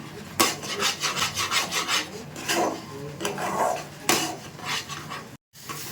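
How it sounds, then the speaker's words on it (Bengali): Semolina being stirred nonstop in a pan, giving a rhythmic, close scraping rasp of the spoon against the metal in quick repeated strokes, with a brief gap near the end. "সুজিটাকে অনবরত নাড়বো যাতে কলার না ধরে যায়"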